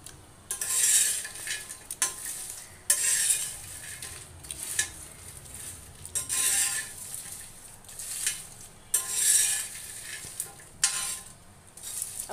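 Peanuts dry-frying in a pan, stirred in repeated scraping bursts with a faint sizzle between strokes, close and moderately quiet, with no talking.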